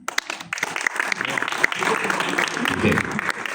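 A stand-up comedy audience breaks into clapping in bursts, fairly close and lively, with a voice talking over part of the applause.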